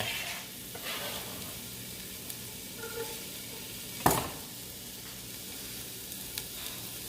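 Onions sizzle in olive oil in a pan, with a steady close hiss broken by a few light stirring scrapes and one sharper clatter midway, and no talk over it.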